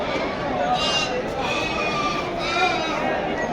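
Bandur cross lambs bleat at a sheep market in Mandya, a few thin calls rising over steady crowd noise while someone talks nearby.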